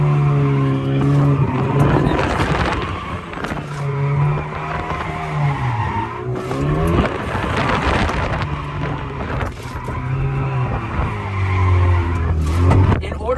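An automatic car drifting with repeated tire skids, squealing screeches rising and falling over a revving engine, loud and close, in several long bursts.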